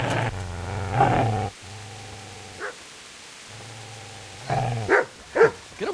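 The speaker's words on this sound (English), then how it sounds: "Get away, you mutt!" Dog barking in Kingdom Come: Deliverance, in a medieval village, with a few sharp yapping barks spaced out between stretches of low, steady ambience, the last ones coming in a quicker cluster.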